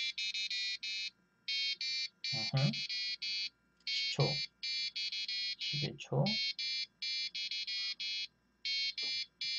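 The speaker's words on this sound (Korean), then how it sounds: "부저에서 이제 소리가 계속 나는 거죠." An Arduino buzzer set as a ramen timer beeps in steady repeated bursts, loud and close, with brief gaps between groups, while someone talks over it in short phrases.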